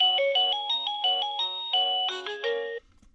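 An eMarcos driveway sensor alert plays a quick melodic sequence of beeping tones, clear and close, lasting about three seconds before stopping.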